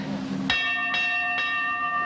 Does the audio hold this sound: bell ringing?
yes